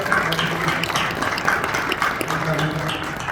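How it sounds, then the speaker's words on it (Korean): Audience applause fills a church sanctuary during a pastors' association inauguration thanksgiving service, a steady, dense patter of clapping lasting a few seconds with voices and a faint tonal undertone mixed in. "여러분 박수 한번 뜨겁게 한번 해주십시오."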